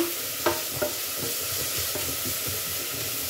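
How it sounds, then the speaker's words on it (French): Onions fry in a pan with a steady sizzle and hiss, and a few soft stirring scrapes and clicks near the start, close and moderate, with no voices. "je suis en train de faire cuire un tout petit peu pour changer la couleur des oignons"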